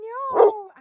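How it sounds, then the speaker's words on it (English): An indoor dog whimpers and whines in a short, rising-and-falling cry, with a brief breathy yelp in the middle, close and fairly loud, as if it wants to be let back inside. "I have a very emotional dog."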